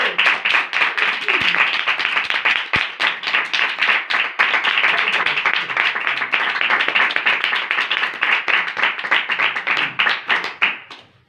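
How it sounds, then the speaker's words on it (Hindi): A congregation at a religious gathering breaks into loud, sustained clapping, dense and rhythmic for about eleven seconds before tapering off at the end. "एक बार जोरदार तालियां"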